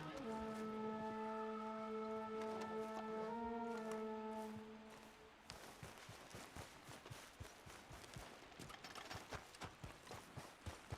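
Horse hooves in Red Dead Redemption 2 clip-clop in a steady, quickening rhythm as the horse approaches, taking over from a sustained tonal sound that fades out midway.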